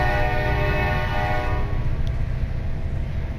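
A train in the Far Cry 4 video game approaches with a loud, steady horn blaring over a continuous deep rumble of the wheels, close and unbroken throughout.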